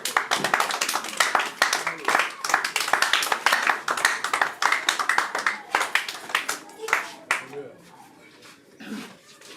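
An audience at a year-end celebration with orphanage children claps in scattered, uneven bursts that thin out and fade toward the end, with voices mixed in.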